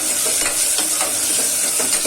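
Large potato pieces frying in hot oil in a pan, a loud, steady sizzle with faint stirring scrapes and no talk.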